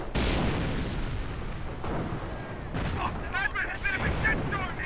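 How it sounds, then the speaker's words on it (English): Axis mortar and howitzer shells landing in a World War II strategy video game, a rumble of repeated booms and crackling impacts, mid-distance, with a voice talking over part of it. "double combination of Axis mortar and terror howitzer coming down on that position there"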